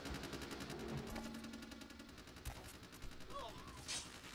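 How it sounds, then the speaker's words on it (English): Rapid bursts of gunfire in the video game Vampire: The Masquerade – Bloodlines crackle over a busy, layered game soundtrack, with a few sharper shots standing out near the end. "Gunfire."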